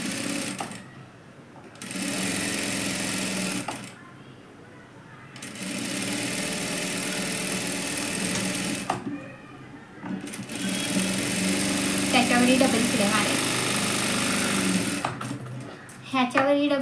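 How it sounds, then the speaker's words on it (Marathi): A sewing machine runs in repeated bursts as it stitches a blouse seam with a half-inch margin, each whirring run broken by short pauses, with a person talking over it. "इथून साईडून अशा अर्धा इंचाच्या शिलाई मार्जिनने शिलाई करून"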